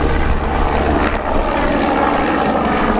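A helicopter's rotor spins up during a Cholet air show display in 2022, making a loud, steady engine drone and whine that fills the air with no pauses.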